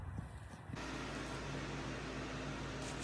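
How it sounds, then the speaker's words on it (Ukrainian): A robot vacuum cleaner runs in an Italian village home, giving off a quiet, steady whirring hum that starts a moment in and holds evenly to the end, with a small click at the close. "Поки робот пилосос прибирає"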